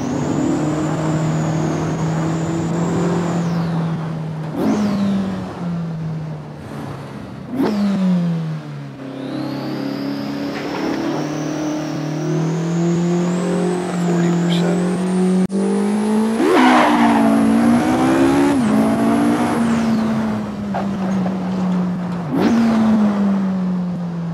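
A Vauxhall 220 turbo, SquonkBuilt edition, revs hard close by, its engine note climbing and dropping through repeated gear changes, with a high whine riding above and some tire squeal during cornering.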